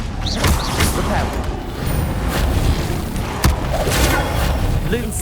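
A Repel spell cast in Hogwarts Legacy on PS5 gives heavy booms and impacts, with one sharp crash standing out. Rushing, swirling effects and voice-like sounds sit over a continuous loud battle backdrop.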